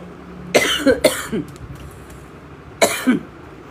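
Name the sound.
cough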